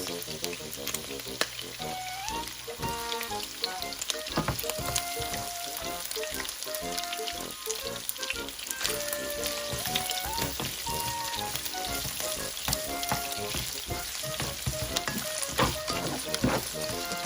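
Garlic and onions sizzle and fry steadily in a pan for a stir fry of pork and taro roots, a continuous crackling hiss with occasional stirring clinks and faint background music.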